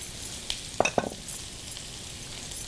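Parotta flatbread frying in a pan for a Bengali dinner gives a quiet, steady sizzle, with a few short clatters and scrapes near the start and no talking.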